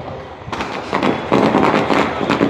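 Fireworks and firecrackers burst at night over a Muslim neighbourhood celebrating Eid Milad-un-Nabi, with rapid crackling pops and booms arriving in loud, dense clusters and overlapping one another.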